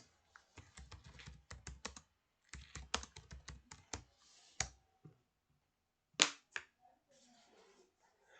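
Keys clattering on a computer keyboard during an online class, quick bursts of close, crisp clicks with short pauses between runs, then a few isolated louder taps.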